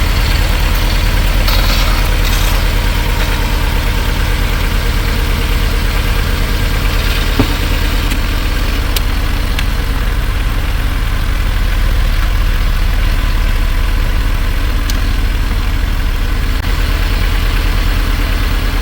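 A Volkswagen Golf 3 engine idles steadily with a low, even rumble throughout, close and unchanging, with no talking.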